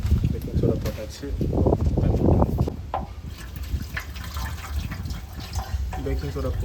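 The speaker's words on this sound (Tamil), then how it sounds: "பேக்கிங் சோடா போட்டு தண்ணி ஃபுல்லாக ஆட் பண்ணி வச்சிட்டோம்" Water runs and splashes into a rusty petrol tank dosed with baking soda, a loud gushing, bubbling fill that settles into a lighter trickle, with someone talking over it.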